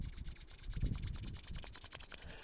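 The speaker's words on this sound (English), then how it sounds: "So you rub the palms together until you feel" Palms rubbing briskly together in a quiet meditation setting, a steady run of soft, dry swishing strokes repeating close to the listener without any voice.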